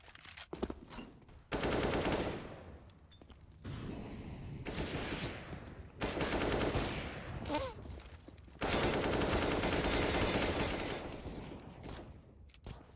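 Gunfire during a Counter-Strike match, in several dense bursts of rapid shots separated by brief lulls, loud and sharp, with a faint voice in the gaps.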